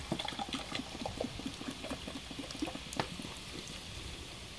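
Coca-Cola fizzing and bubbling over rusty Nissan Patrol Y60 parts, a continuous close crackle of small pops and gurgles with no talking.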